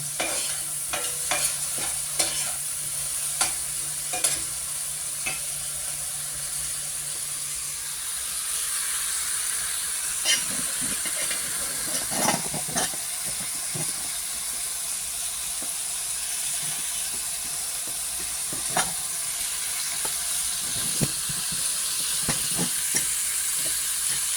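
Pork for kinamatisan, a tomato-based Filipino breakfast dish, sizzles and fries in a pan while a utensil stirs and scrapes it at intervals, with a steady close hiss and sharp clinks throughout, no talking.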